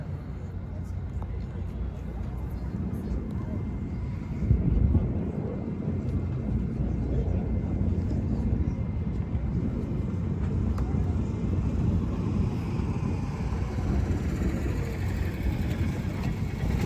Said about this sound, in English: the jump team high above us with the Marine Corps C-130 Fat Albert from the Blue Angels helping out